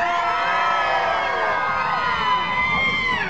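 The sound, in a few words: crowd screaming on cue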